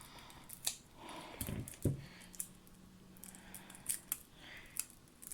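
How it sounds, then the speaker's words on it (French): Scissors cut cards several times at an irregular pace, with soft crisp clicks and a quiet rustle of stiff card between cuts. "on se retrouve avec les ciseaux. Et parti pour bien découper et pas découper les cartes"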